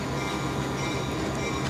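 A train rolls slowly past at a roadside press conference in Nova Scotia, a steady close rumble of rail cars with faint wheel and rail noise continuing throughout, no voices over it.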